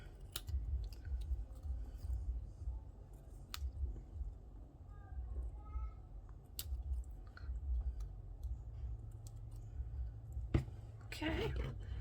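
Scissors trimming paper strip tags give faint, quiet snips and small clicks scattered over a low, steady room hum.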